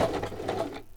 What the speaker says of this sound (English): I'm a very bad person putting my sewing machine through this.